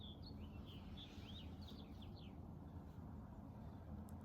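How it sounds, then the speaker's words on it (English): Birds chirp and warble outdoors in short, repeated calls over a steady low background rumble, fairly faint and continuous throughout. "You hear the birds,"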